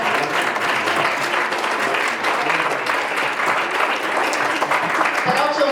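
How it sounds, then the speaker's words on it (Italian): A room full of guests at a club's 30th anniversary celebration applauds, a dense, sustained clapping that holds steady and loud throughout. "vi chiedo veramente un applauso"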